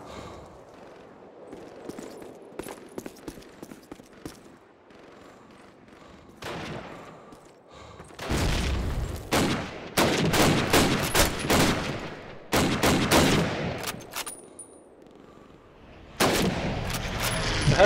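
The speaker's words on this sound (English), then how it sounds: "Artillery ready to go!" Artillery fire during a Call of Duty: United Offensive control point domination match, heavy booming blasts and gunfire rolling in loud clustered bursts, with quieter sporadic shots earlier giving way to sustained, dense barrages.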